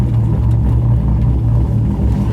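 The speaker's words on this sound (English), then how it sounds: "it's a good thing we're taking this car out first, because it is very loud." A loud car engine idles with a deep, steady rumble that holds constant throughout, close by and unbroken.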